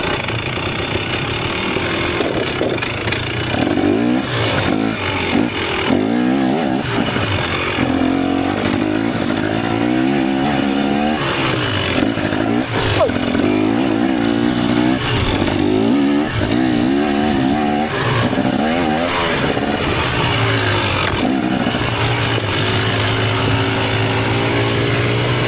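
A KTM 250 two-stroke dirt bike rides a wooded trail, its raspy engine buzzing continuously close by, rising and falling with throttle blips and shifting revs throughout.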